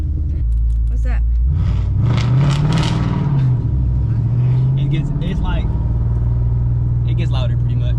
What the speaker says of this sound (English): It gets louder pretty much. Oh. It's like active exhaust.